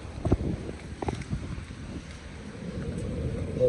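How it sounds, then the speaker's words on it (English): Strong wind from Hurricane Nicole gusts down a city street at dawn, a steady low roar with buffeting microphone noise and a few louder blasts, no speech. "Looks like that street down there is getting a huge wind tunnel effect."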